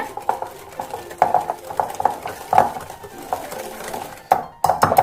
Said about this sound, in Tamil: இந்த பட்டரும் இந்த சுகர் பவுடரும் நல்லா நம்மளுக்கு மிக்ஸ் ஆகணும்